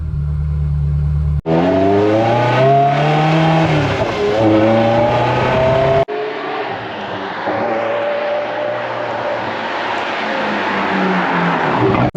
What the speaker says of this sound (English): It's the sound of that V8 screaming behind your head.